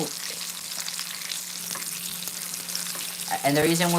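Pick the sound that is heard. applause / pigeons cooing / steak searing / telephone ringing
steak searing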